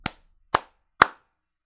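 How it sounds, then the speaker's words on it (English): Three sharp single hand claps, close and dry, spaced about half a second apart in a quiet room with total silence between them. "Clap to sync things up."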